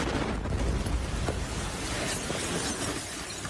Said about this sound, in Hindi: मिसाइल के धमाके के बाद वो पत्रकार जान बचाकर इमारत के अंदर भागता दिखाई दिया।